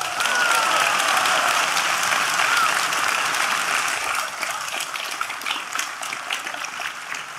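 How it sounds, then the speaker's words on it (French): A crowd of supporters at a Reconquête political rally claps loudly and steadily, with the dense applause easing slightly after a few seconds but continuing to the end. "Oui, vous faites bien d'applaudir ces LR fidèles à leurs convictions"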